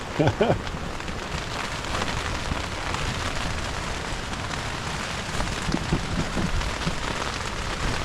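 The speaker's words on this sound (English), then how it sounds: "Got a little rain." Steady rain hisses down during a brief, windy storm on a remote island, heard from a tent, with a few sharper drips and taps near the start.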